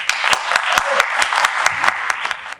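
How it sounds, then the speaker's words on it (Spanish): An audience at a university panel discussion on hydrocarbons and mining claps together to welcome a speaker. The applause is dense and steady, with a few sharper claps standing out, and it fades at the very end. "Por favor, los recibimos con un gran aplauso."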